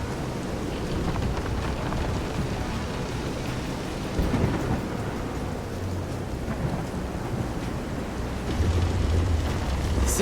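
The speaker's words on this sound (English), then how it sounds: "This is some storm." Thunderstorm at sea in Visions of Mana, with steady heavy rain on the surface and deep rolling thunder that swells near the middle and again at the end, loud and constant with no talking.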